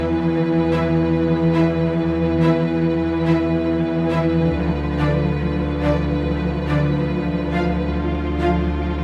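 A film score shifts to a new chord and a different tempo: a sustained, loud orchestral texture with a steady pulse of evenly spaced accents, its low harmony changing partway through.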